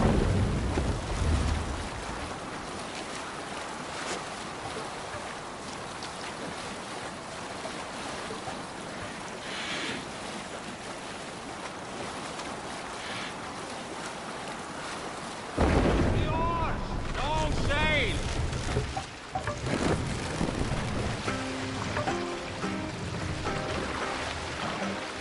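A Viking ship sailing in Assassin's Creed Valhalla carries a steady wash of wind, rain and sea over a long stretch, with voices talking partway through and a louder surge of water and wind later on.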